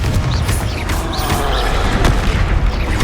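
Explosion spells fired off in Hogwarts Legacy, a dense, loud barrage of booms and blasts rolling over one another without pause, with brief whooshing effects layered on top.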